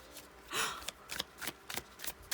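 Tarot cards are shuffled by hand in a quiet room, giving a series of soft riffles and slaps in irregular bursts, close and fairly faint.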